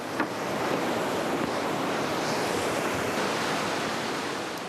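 A waterfall on the K2 base camp trek roars in a dense, unbroken wash of noise, loud and constant from start to finish with no voices.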